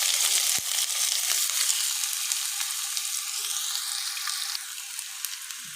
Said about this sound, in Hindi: प्याज को थोड़ा थोड़ा सा हमने फ्राई कर लेना है